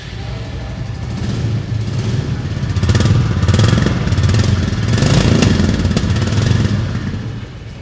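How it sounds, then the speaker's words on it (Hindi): A Royal Enfield Bullet 350, 2023 model, idles steadily and close by with a continuous low thumping engine note that swells slightly midway, with no talk over it. "ये है भाई रॉयल एनफील्ड की बुलेट 350 2023 मॉडल।"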